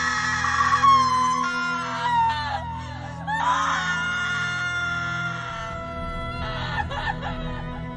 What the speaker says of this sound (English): Maigret's screams echoed through the town.